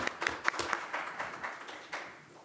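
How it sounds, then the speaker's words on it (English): Applause rises from a commission meeting audience honoring staff members. The clapping sounds brief and faint, with a few sharper individual claps, and it fades over about two seconds. "let's have a round of applause for all of our superstars"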